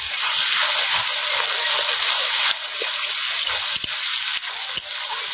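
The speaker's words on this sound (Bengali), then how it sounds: "এবার আদা রসুন বাটা দেওয়া হবে।" Ginger-garlic paste hits onions frying in a pan, giving a loud, rushing hiss of sizzling oil and steam that holds steady throughout, with a few sharp clatters near the end.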